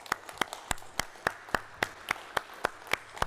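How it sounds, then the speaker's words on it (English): Sparse, slow clapping from only a few pairs of hands in a city address auditorium, a dozen or so distinct claps in a loose rhythm, fairly quiet and heard alone. "I want to give them a big round of applause"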